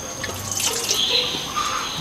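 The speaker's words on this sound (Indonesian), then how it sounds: "Cuci tangan di air yang mengalir." Tap water runs steadily into a sink as hands are washed, a close, soft hissing splash with no talking.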